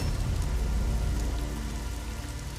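Heavy rain falls as a dense, even hiss of drops pattering on surfaces, steady and close with no breaks and no voices.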